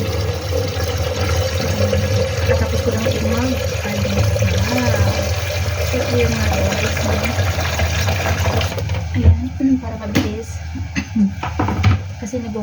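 Water is poured into a cooking pot to be brought to a boil for a small-fish soup, a continuous splashing fill under a speaking voice that ends in a few scattered clinks and drips.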